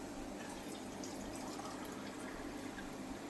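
Water pours steadily to fill three cups, a continuous soft splashing stream heard faintly and close, with no talk.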